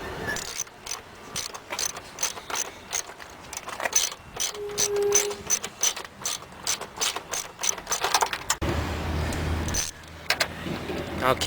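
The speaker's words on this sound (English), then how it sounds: "all you have to do is take the original screws that you took off and put it back in" Original screws being driven back into a 2004-07 Scion tC headlight mount with a ratchet, giving rapid clicking pawl bursts in uneven runs, close and fairly loud, ending with a short low rumble.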